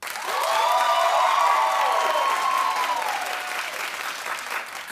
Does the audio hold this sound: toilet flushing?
no